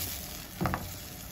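Tomato coulis hitting a hot pan, a faint steady sizzle with a brief stirring scrape in the middle, quiet and without voices.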